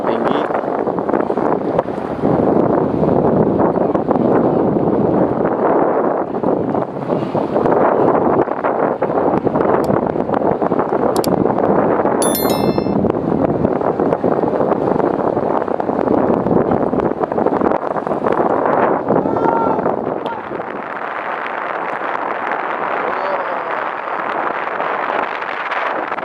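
Strong wind at the Muara Baru dam roars steadily into the microphone as dense, loud buffeting, easing noticeably near the end, with faint voices underneath.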